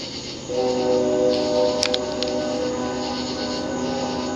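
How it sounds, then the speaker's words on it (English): A train passes some distance away, a sustained horn-like tonal drone entering after half a second and holding steady, with a few brief clicks in the middle. "Stupid train is stupid."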